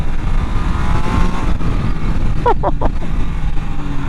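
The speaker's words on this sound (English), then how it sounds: "There's no reason to rev this, but it does sound good." A Triumph Tiger Sport 800 motorcycle engine runs close by with a steady, loud, throaty drone and a brief higher rev partway through.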